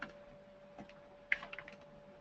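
Computer keyboard typing during a software webinar, faint scattered key clicks in a short burst against a low steady hum.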